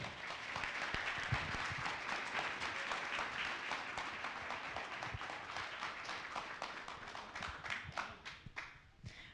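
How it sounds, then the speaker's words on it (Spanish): An audience applauds a speaker at a student conference, a moderate wash of clapping that thins out toward the end into a few scattered claps. "recibamos nuevamente con un aplauso a Ivette La Roca Zamora"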